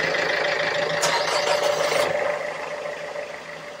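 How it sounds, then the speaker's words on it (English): Twin inboard engines of a 1933 43 ft classic commuter boat idle with a steady low rumble and mechanical rasp, close and fairly loud, a brief scraping burst midway before the sound eases slightly. "let's just take a moment to appreciate the noise of these engines when they are fired up"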